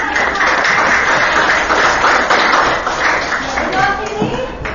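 A class claps hands at the close of a lesson, with loud, close, steady clapping from many pupils and voices mixed in.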